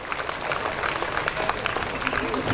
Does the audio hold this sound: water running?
no